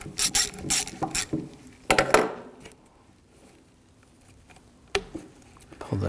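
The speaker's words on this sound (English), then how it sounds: "Just use a 1/4-inch socket, loosen up the hose clamp here." A 1/4-inch socket ratchet clicks in quick bursts while loosening a hose clamp on the thermostat housing hose of a BMW 328i 3.0L, two rapid runs of pawl clicks, a pause, then a final short burst, close and clear.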